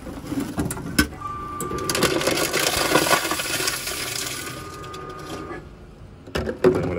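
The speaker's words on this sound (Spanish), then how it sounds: "se procederá a triturar nuestra botella" Inside a convenience store in Japan, a bottle-recycling machine crushes a plastic bottle with a steady grinding, rattling drone lasting several seconds, ending in a few sharp clunks.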